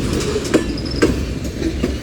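A Union Pacific mixed freight train rolls past Central Avenue, a steady broad rumble punctuated by evenly spaced wheel clacks, close and continuous.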